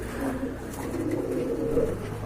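Pigeons coo steadily and close by in a loft, a soft continuous burbling from the birds throughout.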